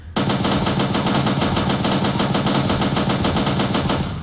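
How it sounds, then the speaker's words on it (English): An AK rifle fires in a long sustained automatic burst while the shooter runs in the Sub Rosa video game, a rapid, loud, evenly spaced rattle of shots lasting about four seconds with no talking. "the AK has some pretty crazy spread when you're moving around"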